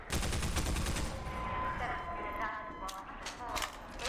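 Pulse rifle fire in the VR game Half-Life 2 VR: a dense rapid burst of shots up front, then scattered mechanical clicks and shots trailing off, with a voice talking over it.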